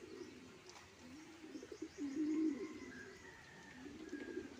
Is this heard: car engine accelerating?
no